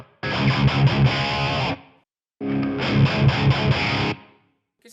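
An electric guitar plays through a Flamma FX150b with room reverb, two distorted strummed chord phrases separated by a short pause, each ringing briefly before being cut off.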